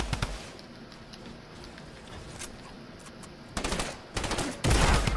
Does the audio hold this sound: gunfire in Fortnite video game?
yes